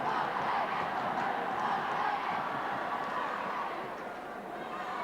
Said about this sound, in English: listen to the support from the crowd behind the Flyers' goal